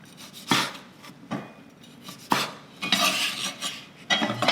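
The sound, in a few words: knife cutting a lime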